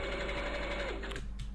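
A sewing machine runs in a Spanish-dubbed TV drama scene, a steady motor whir with a tonal hum that drops in pitch and then cuts out near the end. No voices are heard.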